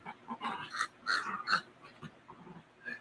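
A dog making low growling and whimpering noises in a few short bursts, close by, with brief yips and breathy sounds between them.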